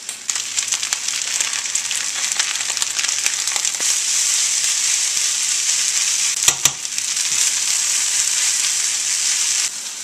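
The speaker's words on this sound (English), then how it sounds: "You're going to hear a lot of popping and everything." Chicken fried rice frying in a hot pan, a steady loud sizzle with dense crackling pops and occasional stirring scrapes throughout, close up and with no talking.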